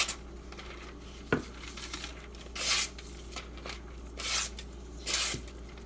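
A Spyderco Salt H1 knife is sharpened on a water stone, with several short, separated bursts of rasping strokes against a quiet background and one sharp tap.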